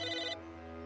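A telephone ringing in the video game Psychonauts: one short, bright electronic ring that cuts off abruptly, then lingers faintly in the background with no talking.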